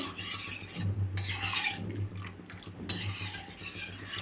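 Karachi halwa mixture is stirred in a pan over a low flame, with repeated close scraping and sloshing strokes in an uneven rhythm and no voices.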